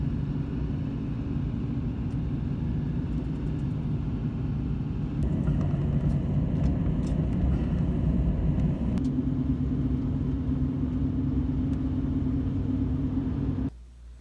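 Truck driven by a lineman along a snowy road during a heavy snowstorm, giving a steady loud engine and road rumble throughout that shifts in tone partway, with no talking.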